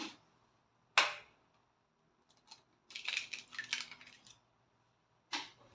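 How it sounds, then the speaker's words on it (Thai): Eggs cracked into a cup for a Thai omelette: a sharp tap on the rim, then soft clicks and shell rustles, and one more crisp tap at the end, all close and quiet. "จากนั้นเราก็มาต่อยไข่ใส่ลงไปในถ้วยเลย"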